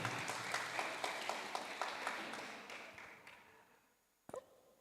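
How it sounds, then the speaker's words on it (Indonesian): Congregation applause at a thanksgiving church service for a women's ministry anniversary, a steady crowd of clapping that fades out over several seconds, followed by a single sharp knock near the end. "Berikan tepuk tangan yang paling meriah untuk Penatua Rudi Lalapari."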